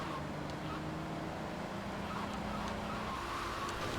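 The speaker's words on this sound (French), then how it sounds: "Oh le drift magnifique." A car engine drones steadily through a drift in the video game GTA Vice City, a continuous mid-loud hum with faint tonal whine and no clear breaks.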